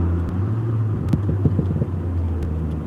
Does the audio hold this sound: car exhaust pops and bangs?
yes